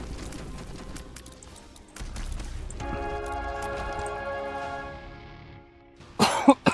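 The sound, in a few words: cough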